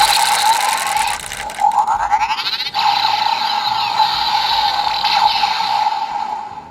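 A Power Rangers Dino Supercharge T-Rex Supercharge Morpher toy makes electronic sound effects as its barrel is turned: loud, buzzy ratcheting, whirring tones that run continuously at close range.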